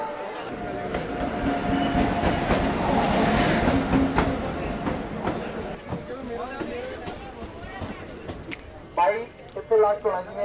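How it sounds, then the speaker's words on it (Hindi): An express train rolls into a station, its heavy rumble and wheel noise steady, then easing as it slows, with clattering and voices of the platform crowd toward the end. "चलो अपनी ट्रेन तो आ चुकी है।"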